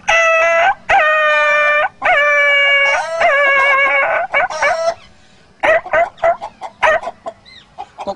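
A human voice mimics a dog yelping in pain after being struck with a stick: several loud, sustained, whining yelps in a row, followed by shorter, broken yips and whimpers, close and clear.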